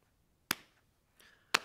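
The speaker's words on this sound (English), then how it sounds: "When I pat like this" Hands patting out a body-percussion rhythm in a home music lesson, two sharp, close slaps about a second apart with a softer tap between them, otherwise quiet.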